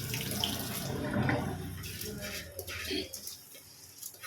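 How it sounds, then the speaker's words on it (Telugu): Water pours and splashes into a pot of basmati rice and dal for a couple of seconds, then trickles off, with birds cooing faintly nearby. "వాటర్ పోసేసి"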